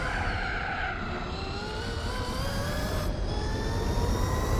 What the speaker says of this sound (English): Lovely sounding engine. Listen to that scream.